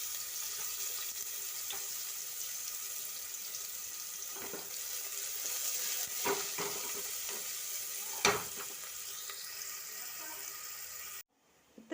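Sliced onion sizzling in hot oil for a tempering on a gas stove: a steady low crackle with a few sharper clicks and stirring scrapes, ending abruptly.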